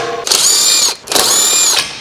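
An impact wrench fitted with a 19mm deep socket loosens lug nuts on a Ford Fusion, firing two loud, close, rattling bursts of hammering separated by a brief pause.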